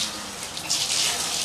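Shower water running at a church, a brief soft hiss of spraying water, steady and close.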